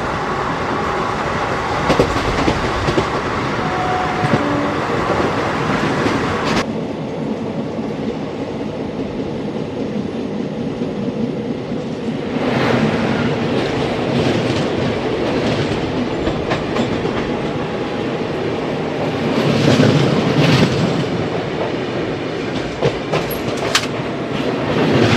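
The Tirupati–Kakinada express runs on rails with continuous loud rumble and rhythmic clickety-clack, swelling and easing over its length with occasional wheel squeal.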